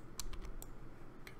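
Computer keyboard keys pressed repeatedly for a Control J shortcut while parallax mapping in RPG Maker, four or five quick, close clicks spaced irregularly over a low background hum.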